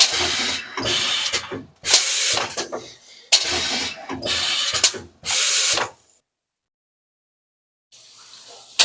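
A blind-making machine feeds a coil of slats, punching and cutting them in loud, clattering mechanical bursts separated by short gaps, then falls silent for a couple of seconds before a faint hum resumes.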